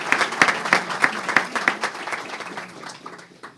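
Audience applause after a lecture on systemic corruption, dense clapping that starts strong with sharp individual claps and gradually thins and fades out over a few seconds.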